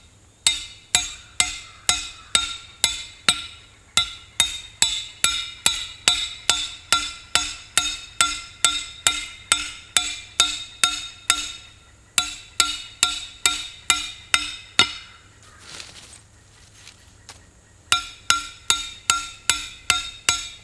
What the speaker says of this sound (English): I'm going to use a Groundhog 3-in-1 tool to drive it into the ground